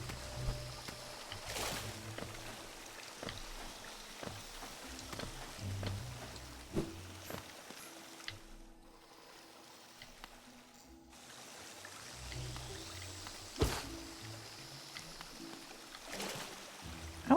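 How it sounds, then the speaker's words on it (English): Steady rushing water from a waterfall in the video game Hollow Knight, a broad hiss that runs throughout, briefly thins out midway, then returns with scattered soft knocks. "I want to go through the waterfall."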